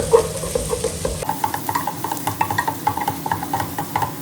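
Sautéed onions being stirred with turmeric in a pan, giving a continuous gentle sizzle under rhythmic scraping strokes of a spoon, close by and with no voices.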